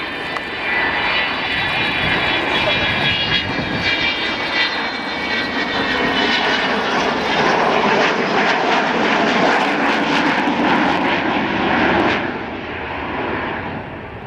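Avro Vulcan B Mk2 XH558 jet bomber displaying at the RAF Cosford Air Show, a loud sustained roar of aircraft engines that swells and rumbles steadily throughout, easing slightly near the end, with no talk.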